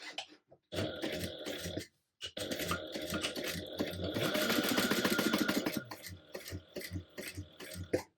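A sewing machine bastes fabric together in short bursts of fast mechanical stitching, up close, with a longer continuous run in the middle and brief handling noises between.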